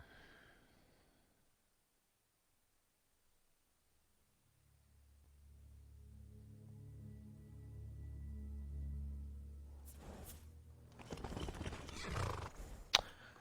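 A horse in the Skyrim video game gives a low, drawn-out whinny and snort, followed by a few sharp hoof clops and clatter, fairly faint after near silence.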